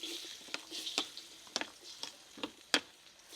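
Chopped carrots hit hot oil in a wok with a soft crackling sizzle, broken by several sharp clicks and scrapes of a utensil against the pan; no voices.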